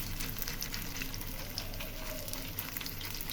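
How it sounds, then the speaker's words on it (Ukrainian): Steady, close sizzling of sandwiches frying filling-side down in a hot pan, a continuous crackling hiss with no voices. "Все, і смажимо."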